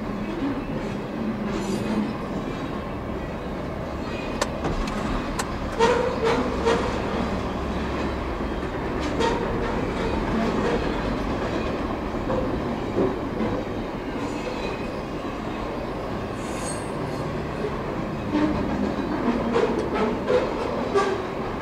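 A CSX freight train rolls past close by on the tracks, with a continuous heavy rumble and scattered metallic clanks and wheel clicks running for over twenty seconds and no voices.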